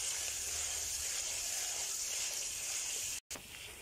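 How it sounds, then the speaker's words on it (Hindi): Powdered spices roast in hot oil in a pan for aloo baingan, giving a steady, close hiss and sizzle. It runs unbroken for several seconds, with a brief cut near the end. "अब हम पाउडर मसाले डाल के भी एक मिनट भून लेते हैं"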